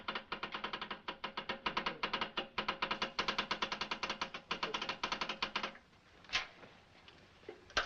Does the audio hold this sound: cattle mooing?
no